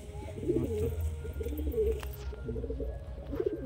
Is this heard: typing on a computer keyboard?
no